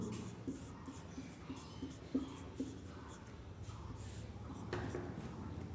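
A pen or pencil scratches out a math answer on paper in a Class 8 lesson on additive inverses, giving soft, close strokes with a few sharper taps amid faint room noise.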